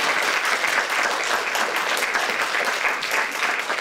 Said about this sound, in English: would you all join me in giving our lovely panel a huge round of applause